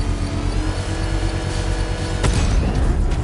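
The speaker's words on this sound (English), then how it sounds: "I can use the power winch to trigger a controlled explosion." A controlled bomb explosion set off with a power winch in Batman: Arkham Knight, heard as a dense, loud rumbling roar under steady game noise, with a sharp burst about two seconds in.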